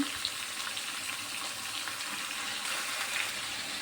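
Beef pieces fry with browned onion, bay leaf and salt in a pot, giving a steady soft hiss and crackle at low level, close by and without voices.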